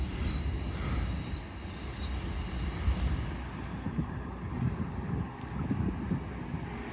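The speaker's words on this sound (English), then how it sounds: "leaving now is the 1455 LNER Azuma service to London King's Cross" An LNER Azuma train pulls out of Doncaster station on the East Coast Main Line with a steady low rumble of wheels and a faint high squeal that fades early, heard from the platform with light wind.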